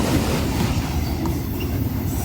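A train passing over a bridge overhead rumbles close by with a heavy, continuous roar and faint metallic squeals, loud and unbroken throughout.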